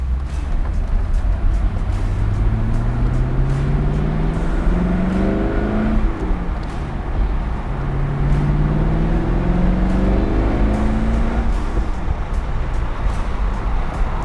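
A 2000 Corvette convertible cruising on the road, its engine hum rising and falling through gear changes over steady tire and wind noise, continuous and fairly loud with no talking.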